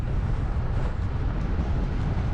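Strong crosswind buffets the microphone during an alpine bikepacking crossing in the mountains, giving a steady, loud, low roaring rumble for the whole stretch without any voices.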